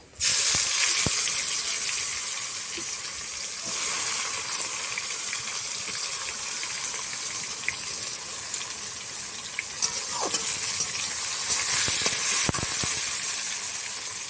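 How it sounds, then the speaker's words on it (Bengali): Chopped onions fry in a pan of hot oil already tempered with cumin, bay leaf and dried red chillies: a loud, continuous close sizzle and hiss with occasional small pops, no voices. "কেটে রাখা পেঁয়াজগুলো আমি দিয়ে দেব।"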